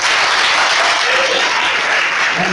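A church congregation at a mission programme applauds in a dense, steady roar of clapping that fills the whole moment without pause.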